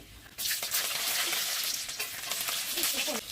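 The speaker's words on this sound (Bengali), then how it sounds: "এবার দিব তেজপাতা এবার দিব রসুন কুচি" Chopped garlic, bay leaf and whole spices drop into hot oil and burst into a loud, crackling sizzle that holds steady for several seconds, close by, with faint stirring and no clear speech.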